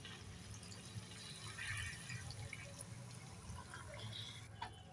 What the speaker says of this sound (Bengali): এবার দিয়ে দেব উষ্ণ উষ্ণ গরম জল।